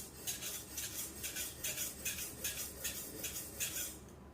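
A double-bevel household kitchen knife is stroked back and forth on a whetstone, held at a steep angle, in a steady run of about a dozen soft rasping passes, close and quiet.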